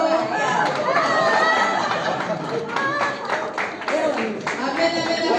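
A church congregation at a French-language Sunday service claps and cheers, a loud mix of clapping hands, excited voices and chatter that fills the space without pause.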